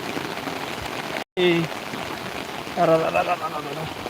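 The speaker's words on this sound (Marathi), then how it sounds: "मुसळधार पाऊस" Heavy monsoon rain pours in a continuous hiss near a river, broken by a brief dropout, with a voice calling out over it near the end.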